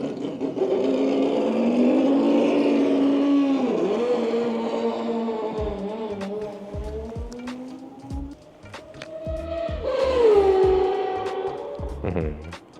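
A Mazda Le Mans race car engine at a motorsports museum idles with a deep, steady harmonic drone, its pitch dipping and rising as it is blipped twice, loud and close, with people talking over it.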